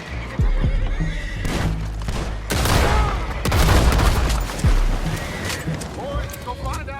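Horses neigh and whinny in the Red Dead Redemption 2 video game, several loud shrill calls rising over clattering hooves, bursts of gunfire and shouting voices in a chaotic fight.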